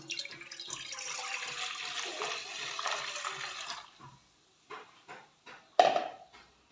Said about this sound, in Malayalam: അതിലേക്ക് 1/4 പാൽ ഞാൻ ഒഴിക്കുന്നു.